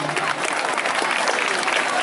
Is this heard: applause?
yes